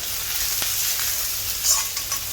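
Chopped ginger and tomato sauté in oil in a pan for a crab roast, giving a steady close sizzle with a few light stirring scrapes throughout.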